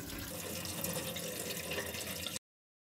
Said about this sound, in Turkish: Şimdi bunun suyunu dökeceğim ve yeni içme suyuyla kurma işlemine başlayacağım